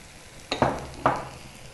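Urad dal and mustard seeds land in hot oil in a tempering pan, giving two or three sharp crackling bursts over a faint steady sizzle, close and distinct, with quiet gaps between.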